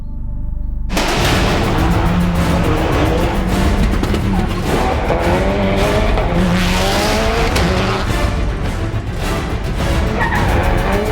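Subaru Impreza rally car roaring at full throttle, engine note rising and falling through gear changes as tyres squeal and skid, loud and sustained throughout with no talk.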